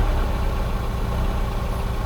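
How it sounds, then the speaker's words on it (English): BMW E30 M3 with its S14 engine, a loud close-up engine note that holds a steady, slightly rough rev with a throbbing low pulse and no talk. "Listen to that S14 rev."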